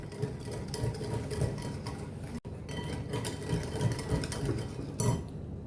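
Eggless custard cake batter being stirred in a bowl, a steady scraping and clinking rhythm that continues throughout at close range with no talking.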